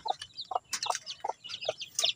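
A chicken clucks repeatedly in short, rhythmic bursts, close and clear, with other faint bird chatter in the background.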